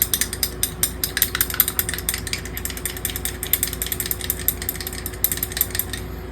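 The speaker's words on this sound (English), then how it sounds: "So I want to get it stirred up real good, and it mixes together very well." A thin clear coat is stirred in a jar, making a steady run of quick scraping clicks and taps close by, repeating rhythmically throughout with no talking.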